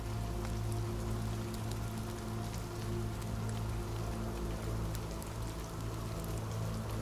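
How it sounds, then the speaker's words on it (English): Gentle rain falling on leaves, a dense, even patter of drops that stays constant and fairly loud throughout. "Imagine gentle raindrops falling softly on leaves"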